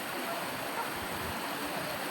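River water flowing steadily in a shallow, murky stretch of river, a constant close broadband rush of water with no pauses and no talk.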